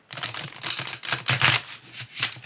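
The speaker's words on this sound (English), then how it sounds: "We'll do the sideways riffle. So let me shuffle them up" Steampunk tarot cards riffle shuffled sideways, a series of crisp fluttering card bursts with brief pauses between them, close and moderately loud, no talking.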